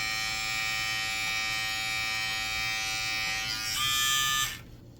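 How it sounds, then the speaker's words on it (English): A Brightup rechargeable precision trimmer buzzes steadily up close, its high-pitched motor whine holding level for several seconds, rising slightly in pitch, then cutting off abruptly. "Or say here, you want to cut. This is precision trimmer."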